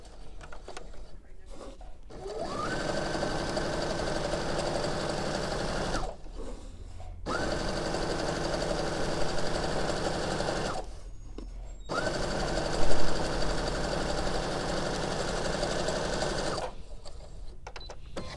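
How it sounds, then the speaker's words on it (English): A sewing machine stitching fabric along a quarter-inch seam runs in three long steady whirring stretches separated by short pauses, close and even in tone. "I'm going to sew it with a 1/4 inch seam allowance."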